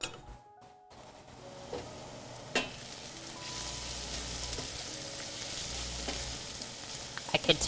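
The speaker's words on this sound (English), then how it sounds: "I could tell by the sizzle sounds that this needed a stir." Food fries in a pan, making a steady, moderate sizzle with a few soft clicks and clanks, with no voices.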